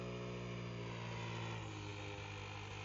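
A FlyWing FW450 V3 RC helicopter running on 6S power in GPS mode gives a steady, close, harmonic rotor and motor whine whose pitch eases slightly lower toward the end.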